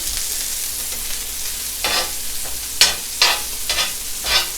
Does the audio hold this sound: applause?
no